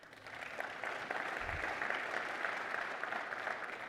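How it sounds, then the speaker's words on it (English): An audience at a Ronald Reagan Presidential Foundation fireside chat gives a steady round of applause, dense and even from start to finish with no voices over it. "You deserve a round of applause"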